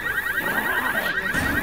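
A car alarm blares in the video game Left 4 Dead, a loud steady repeating electronic tone that fills the whole stretch without any talking.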